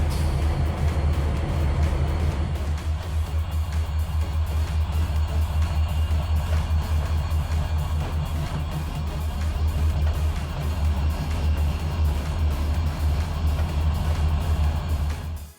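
A train departing Kingston Yard in Trainz 2019 gives a steady, loud low engine drone with a constant rhythmic pulsing throughout, close and alone.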